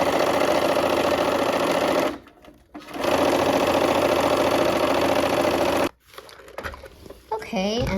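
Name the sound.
sewing machine sewing quilt block pieces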